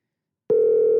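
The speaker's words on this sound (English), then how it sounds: "Let's try calling him again." A phone call placed to a mobile number brings a steady electronic telephone tone that switches on abruptly after a moment of silence and holds, loud and even, with no voices.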